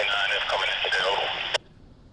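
A railroad radio scanner carries a crackly, band-limited voice transmission that cuts off with a sharp click at the end of the message.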